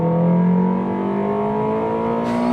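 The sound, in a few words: Honda Integra DC5 four-cylinder VTEC engine revving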